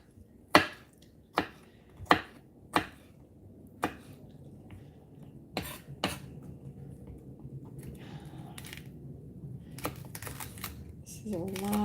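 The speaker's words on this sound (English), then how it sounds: "This is a lot of chopping." A knife chops ingredients for a meal-kit dinner in a home kitchen. There is a run of crisp, separate chops, loud at first and then sparser and softer, over a low background hum.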